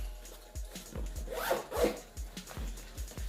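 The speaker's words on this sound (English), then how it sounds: "So let me zip this back up." A North Face Recon backpack pocket is zipped shut in a series of short, close rasping zipper strokes, loud and distinct with no talking.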